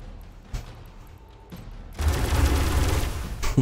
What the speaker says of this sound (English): Oh no, I forgot they can shoot through that wall.